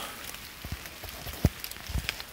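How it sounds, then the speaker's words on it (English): Raindrops fall outdoors on an exposed hillside, making faint, scattered patters and a few sharper individual drop hits over a quiet, hissy background. "There's some more raindrop"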